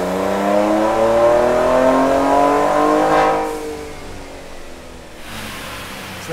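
A car engine on a horsepower test run revs hard, a loud rising drone that climbs steadily, then drops away and settles to a lower idle near the end.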